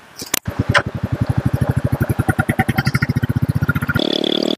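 A Royal Enfield Classic 350 single-cylinder motorcycle engine runs close by with a steady, rapid thumping beat for several seconds, then shifts to a smoother, higher-pitched tone just before cutting off.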